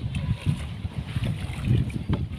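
Wind at sea rumbles steadily over a boat, with low gusty buffeting and water noise close to the microphone. Faint voices may sit underneath.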